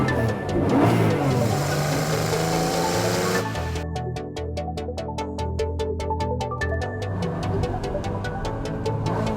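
Ferrari F80 engine revving loudly at a Ferrari event in Bangkok, a rising roar that drops into a lower, pulsing idle-like throb with rapid rhythmic ticking, close and sustained throughout.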